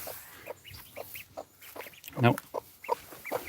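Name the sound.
chickens clucking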